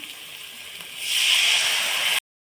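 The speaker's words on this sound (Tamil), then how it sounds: "இப்போ கொஞ்சமாக புளி தண்ணி சேர்த்துக்கலாம்" Tamarind water pours into a cooking pan, a soft hiss that grows louder and steadier midway, then cuts off abruptly.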